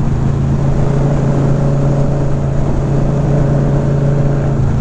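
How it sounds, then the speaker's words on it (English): Audi car passing on a Colorado mountain road, heard from a motorcycle in fifth gear, as a steady, loud engine and road drone that holds evenly throughout with no speech. "And there goes the Audi."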